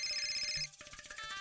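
A phone ringtone plays with a clear repeating electronic tone, pauses briefly, then starts again, moderately loud and close with no one speaking.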